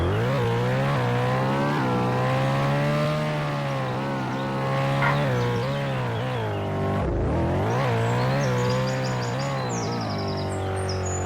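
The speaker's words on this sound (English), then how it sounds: "The only thing that I would say that is different in Emergency Hamburg is probably the sound of the car" Car engine in the video game Emergency Hamburg drones steadily with a constant harmonic hum and gentle pitch swells, a brief dip near the end, loud and close throughout with no talking.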